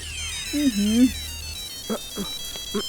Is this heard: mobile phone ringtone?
yes